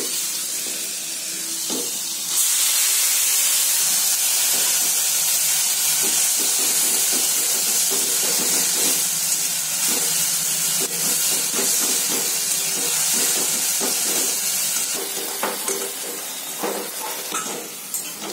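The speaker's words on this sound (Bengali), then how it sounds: "আর এদিকে আলু ভাজা হচ্ছে, মশলাটা দিয়ে দিয়ে তারপরেতে যাব" Potatoes fry in a pan with spices, giving a loud, continuous steamy hiss and sizzle close by, with faint stirring scrapes and no talking.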